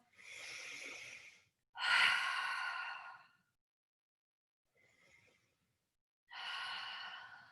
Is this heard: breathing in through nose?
yes